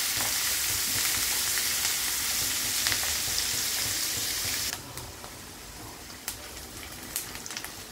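Onions and green chillies sizzle steadily in a pan with a loud, dense hiss for most of the time, then the frying drops to a quieter crackle with a few light scrapes near the end.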